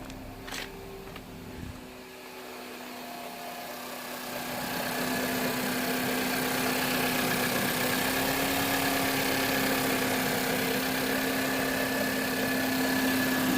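Nissan Pulsar 1.2 DIG-T idling smoothly, a steady low hum that grows slightly louder and fuller after a few seconds and then holds evenly, with a faint click near the start and no talking.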